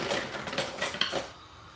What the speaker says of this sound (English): Put it inside this pot.